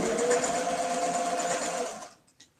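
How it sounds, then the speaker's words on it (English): A sewing machine stitches a Mississippi quilt block for a row-by-row mystery quilt, with a steady close whirring drone that runs for about two seconds, then stops and leaves a brief faint tap. "I'm still sewing my Mississippi block"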